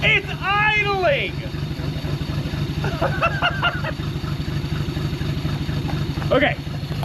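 Steady low rumble of a 1940 Plymouth Deluxe engine idling after sitting parked for 65 years, running without coolant, heard up close beneath excited voices.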